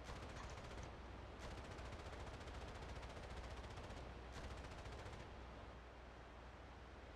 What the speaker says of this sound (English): so this is the minigun